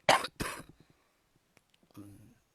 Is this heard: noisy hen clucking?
no